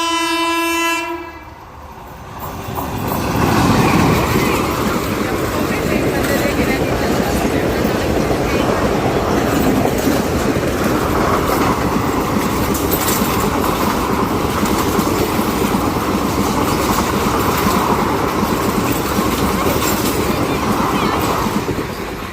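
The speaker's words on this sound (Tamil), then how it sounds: "ட்ரெயின் வந்து" A train rumbles past on the rails, loud and close, with a horn blast near the start and steady wheel noise continuing throughout.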